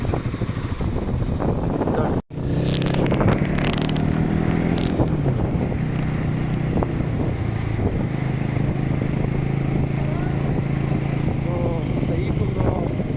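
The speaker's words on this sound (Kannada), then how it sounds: "ಬೈಕು." A motorcycle rides along a foggy hill road on an early-morning trek near Chikmagalur, its steady engine drone heard close alongside wind buffeting and a voice talking over it.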